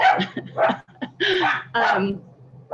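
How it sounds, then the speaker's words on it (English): Several dogs bark and yip in a noisy hallway, with loud, close bursts in an uneven rhythm and a few whimpering yelps mixed in. "you want to take a moment to quiet the dogs down"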